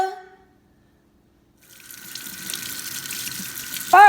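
Running kitchen tap water while cucumbers are washed, a steady hiss of flowing water that starts after a brief quiet stretch and continues close and clear, with no speech.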